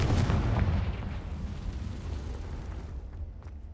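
In Hogwarts Legacy, the Confringo blasting spell sets off a loud, rumbling explosion that starts abruptly and then rolls into a long, gradually fading roar, with no talking.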